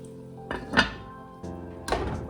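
Lid put on a pot of simmering dried shiitake mushroom soup: a few close metallic clunks and a rattling knock as the top settles, spaced over about two seconds.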